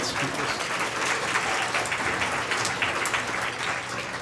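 An audience at a young readers' literary event in Iowa City claps for students winning gift certificates, a continuous full round of applause throughout.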